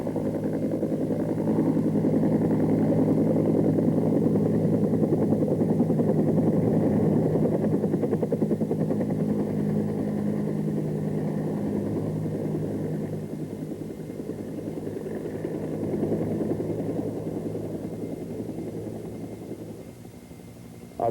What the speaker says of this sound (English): A running takeoff allows a heavily laden Cobra to develop translational lift through forward speed before takeoff.